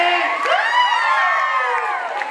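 Crowd cheering and whooping at an LGBTTTIQ+ pride march in Cuautla, a dense, loud wall of high shouting voices sustained throughout.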